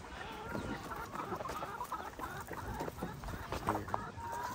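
Chickens clucking near a coop during farm chores, a steady busy chorus of clucks and scratchy rustling at moderate distance, with a person speaking faintly underneath.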